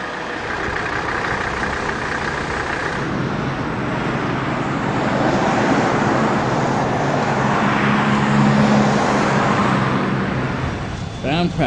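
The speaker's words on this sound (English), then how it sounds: "some cop cars rolled up to the Brattleboro Common" Police cars rolling up to the Brattleboro town common, engines idling and rumbling steadily amid road noise, with a low hum building midway and voices faintly present in the background.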